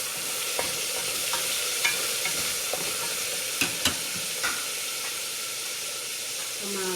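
Onions and meat frying in a pan with garlic, a steady broad sizzle and hiss with occasional clinks and scrapes of stirring close by, no talking.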